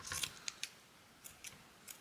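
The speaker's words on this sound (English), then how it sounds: "Scissors don't feel very sharp." Scissors that are not very sharp snip through paper for junk journal pockets and tucks: a handful of quiet, crisp cuts, some in quick pairs, close up with no talk.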